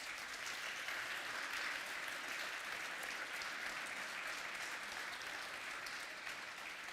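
A conference audience at LibertyCon Europe 2025 gives sustained applause after a panel, a steady, fairly distant roar of many hands clapping at an even level throughout.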